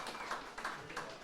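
Crowd applause for the home side after Langwarrin's 1-0 football win over Melbourne Victory at Lawton Park, heard as faint, distant clapping rising in a few soft swells.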